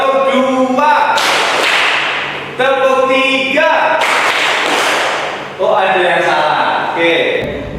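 Hands clap in a classroom clap game while a group of voices chants in rhythm; several loud broadband bursts of clapping come between the chanting phrases, close and lively.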